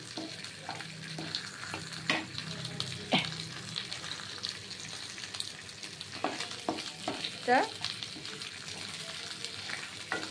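Fish head sizzles in spiced oil in a large pan for a Bengali mung dal dish. Constant frying crackle is broken by repeated scraping and clattering bursts as the pieces are stirred close by.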